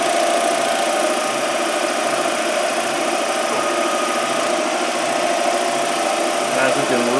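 A Grizzly G0733 lathe turning Arizona ash wood at about 800 rpm: a loud, continuous motor whine and droning hum with a rough tool-on-wood rasp, steady from start to finish.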